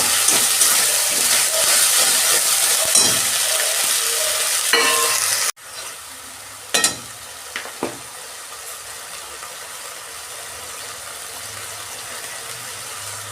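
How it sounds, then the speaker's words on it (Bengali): Ginger and cumin fry in hot oil in a pan for a vegetarian papaya dish, a loud steady sizzle and hiss that drops sharply partway through, followed by a few clattering stirs against the pan over a softer fry. "আমি মশলাটা একটু কষতে নেব"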